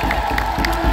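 Warm applause and cheering from a crowd at a church consecration, a dense continuous wash of clapping with raised voices, steady and fairly loud throughout.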